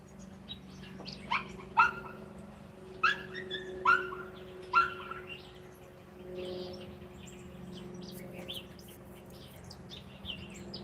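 Dog barking outdoors in a natural setting, about five sharp barks in an uneven series early on, moderately near, with birds chirping faintly in the background.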